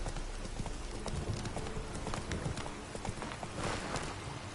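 Horse hooves clip-clop steadily in The Witcher 3 on PS5, a busy, continuous stream of hoofbeats with occasional faint talk over the top.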